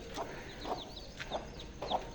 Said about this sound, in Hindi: एक अच्छी खासी आवाज़ आ रही है चूज़ों की